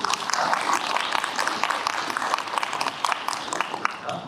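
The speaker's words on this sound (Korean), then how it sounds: "박수 부탁드립니다" Audience applause for an arriving guest at a citizen participation launch ceremony of an international climate and environment centre, a sustained crowd clapping heard from across a hall at modest volume, even and unbroken.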